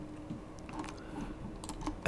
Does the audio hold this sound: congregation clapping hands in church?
no